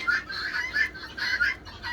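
Brahma chickens cluck in short repeated bursts, several birds close by with a soft background hiss.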